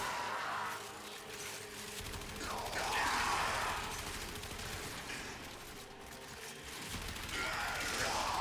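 AX-52 assault rifle fire in Warframe, a dense rolling stream of rapid shots with bursts swelling and fading over game effects, fairly loud and continuous across the whole stretch.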